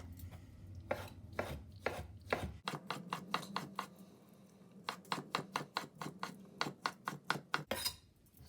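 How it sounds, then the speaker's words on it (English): Knife roughly chopping leftover vegetables, carrots among them, on a board for bubble and squeak, with sharp close blade knocks coming in quick uneven runs, some bursts rapid and rhythmic, others spaced apart, with no talk. "I'm just going to go over these roughly with a knife"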